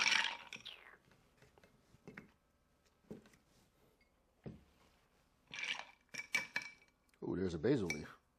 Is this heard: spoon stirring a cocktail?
yes